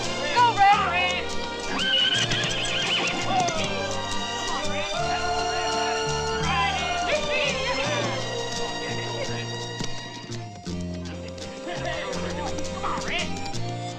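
A horse neighs repeatedly over hoofbeats at a gallop, with shouting voices and music mixed in throughout.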